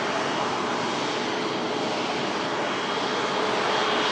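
A passing airplane's engine roars steadily and loudly throughout at an airfield during plane spotting, a broad continuous wash of engine noise with no talk over it.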